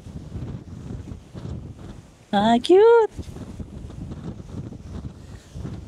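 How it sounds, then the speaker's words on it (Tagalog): Strong wind buffets the microphone outdoors on Jeju Island, a steady low roar broken by a brief exclamation and voices talking. "Lakas ng hangin."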